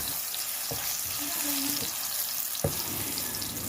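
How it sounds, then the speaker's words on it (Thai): Soft sizzling of shiitake mushrooms frying in oil in a hot pan, with a few clinks and scrapes of a utensil stirring. "เอาน้ำมันใส่กระทะเรามาคั่วเห็ดหอมให้หอมกันก่อนค่ะ"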